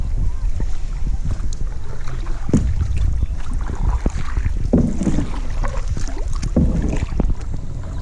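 Kayak being paddled in Halong Bay, with rhythmic splashing paddle strokes in water against steady wind noise on the microphone.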